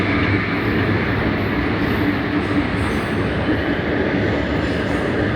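A metro train rolls past close by with a steady, loud rumble and rattling of wheels on track, with no voices.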